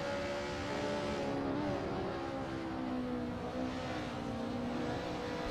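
Steady, droning engine note of a DTM race car at the Sachsenring held at moderate throttle, continuous with slowly shifting pitch and no talking.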